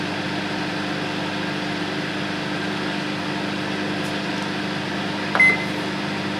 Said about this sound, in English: You can use the express microwave cooking.